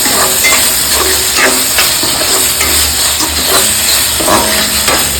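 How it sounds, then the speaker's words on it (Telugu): Ginger garlic paste fries in hot oil with a loud, continuous sizzle and hiss, broken by occasional stirring scrapes of a spoon in the pan, close up. "వేసుకొని పచ్చివాసన పోయేంత వరకు బాగా ఫ్రై చేయాలి అల్లం వెల్లుల్లి పేస్ట్"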